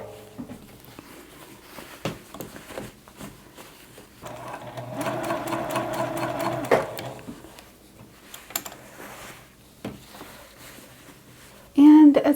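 A sewing machine runs in a steady burst midway, stitching a turned-under hem on scrubs with the fold lined up against the presser foot, close and moderately loud amid faint handling clicks and fabric rustle.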